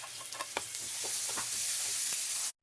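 Onion, garlic and ginger frying in a pan for ginisang dilis with tomato, a steady close sizzle with a few stirring scrapes and clicks, and no voices.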